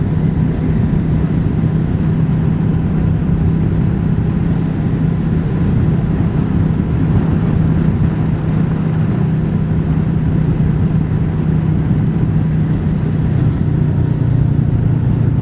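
A Royal Enfield Meteor 350 motorcycle out on a ride, heard as a loud, constant engine drone mixed with heavy wind rush, steady throughout with no pauses.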